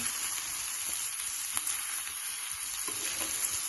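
SPAM fried rice frying in a pan, a steady close sizzle with faint crackles and occasional soft stirring taps, no voices.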